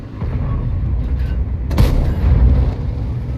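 A high-explosive shell strikes a tank in World of Tanks, giving a deep, rumbling thud under a low droning background.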